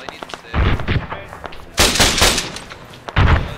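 Bursts of gunfire from an ARMA 3 military operation, three loud volleys at intervals with quieter crackling shots and faint radio chatter between them.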